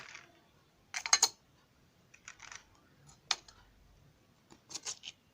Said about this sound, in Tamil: இப்போ கொஞ்சமாக ஐஸ் க்யூப் சேர்த்துக்கலாம்